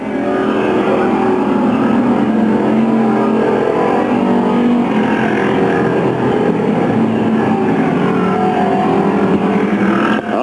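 Race cars roar around the track at Gasport, a loud continuous engine drone that swells and holds as the pack comes off the corner and down the back straightaway.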